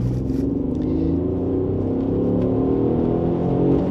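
An Alfa Romeo GTV engine revs steadily and loudly, a rich low rumble rising gradually in pitch throughout, with no voices.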